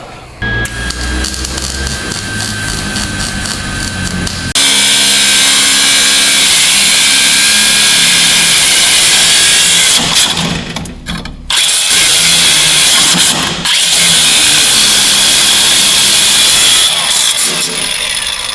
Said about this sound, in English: And then probably grind these down